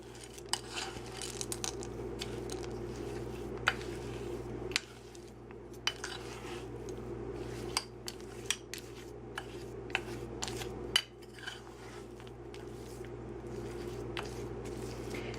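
Chocolate chips being folded into cookie dough for skillet cookies, with soft squishy stirring and scrapes and occasional sharp clinks of a utensil against a bowl over a steady low hum, with no talking.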